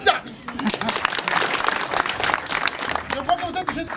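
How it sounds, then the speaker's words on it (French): A live audience at a stage show applauds, dense clapping that swells and churns continuously at moderate distance, with voices mixed in over the crowd noise. "Qu'on puisse applaudir le public"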